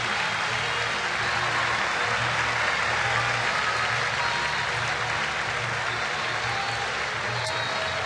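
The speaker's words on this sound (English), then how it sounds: "getting a nice round of applause from the hometown fans here in Detroit." Hometown baseball crowd at a Detroit Tigers stadium applauding a player walking back to the dugout, a steady broad wash of clapping and crowd noise that holds evenly for about eight seconds, with low background hum.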